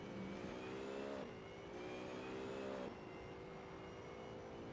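A BMW GT3 race car at the Shanghai circuit swings out of a long right-hander onto the long straight, engine droning steadily, pitch climbing through the gears with two distinct upshifts, at mid distance and with no talk.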